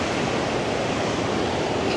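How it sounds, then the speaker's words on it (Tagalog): Steady broadband rush of flowing water at a campsite, continuous and fairly loud with no voices over it. "Yung tunog lang ng tubig, oh."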